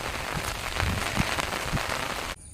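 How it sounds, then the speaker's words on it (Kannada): Steady rain pattering on an umbrella held by someone walking outdoors, a dense close hiss with a few heavier drop bursts, cutting off abruptly near the end. "ಮಳೆಗೆ ಕೊಡೆ ಹಿಡಿದುಕೊಂಡು ನಡ್ಕೊಂಡು ಹೋಗ್ತಾ ಇದ್ದೇನೆ"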